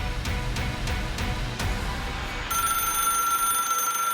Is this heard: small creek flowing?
no